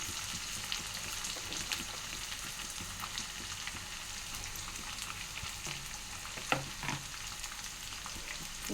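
Onions, dried red chilies and garlic cloves fry in a pan with a steady, close crackling sizzle throughout, broken by a couple of brief knocks of stirring near the end; no one speaks.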